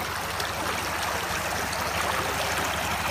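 River water flows in a steady, continuous rush during the dry season, a dense hiss of moving current with no pauses across a few seconds.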